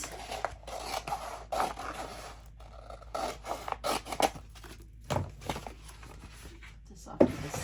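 A piece of transfer tape is cut from a roll in a craft room: quiet, intermittent scraping and snipping rasps, each short and close, spread unevenly across the stretch.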